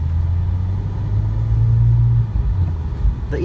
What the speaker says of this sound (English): the EVO has a good acceleration on it, to be what it is